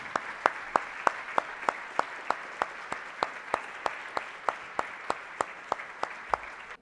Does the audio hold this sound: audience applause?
yes